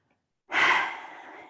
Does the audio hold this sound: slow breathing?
yes